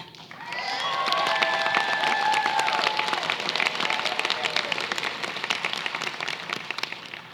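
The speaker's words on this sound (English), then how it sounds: "could you please stand and let's honor them with a round of applause" An audience at an Asian student celebration gives a sustained round of applause for honored students, dense clapping rising quickly and holding steady, with brief tonal sounds near the start.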